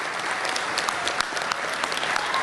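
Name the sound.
applause for the graduating class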